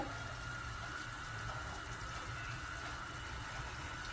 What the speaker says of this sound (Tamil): தண்ணி நல்லா கொதிக்க ஆரம்பிச்சிடுச்சு.